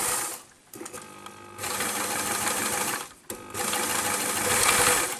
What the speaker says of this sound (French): on coud sur les traits de craie à 1 cm du bord